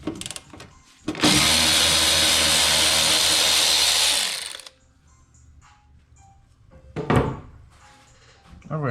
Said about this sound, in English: My ratchet is loud